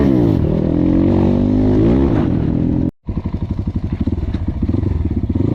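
A KAYA 612 motorcycle rides and accelerates, its engine revving loud and close in a rising pitch sweep, briefly cutting out, then pulling hard again with a rapid pulsing exhaust beat.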